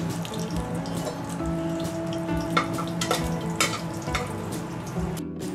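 Cinnamon and cardamom sizzle in hot ghee in a pressure cooker as the start of a chicken biriyani, giving a steady, close crackling hiss with scattered pops and no talking.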